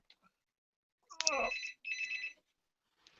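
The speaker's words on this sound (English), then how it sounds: "if I press this button here, it ought to hopefully phone over there." A telephone rings after a call is placed, two bright electronic trilling bursts separated by a short gap, clear and close against otherwise near silence.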